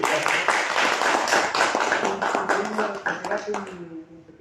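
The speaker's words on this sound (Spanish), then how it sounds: "Hoy un aplauso para" An audience at a literary event of a Chilean writers' association claps in a dense, steady burst that thins out toward the end, while voices talk over it.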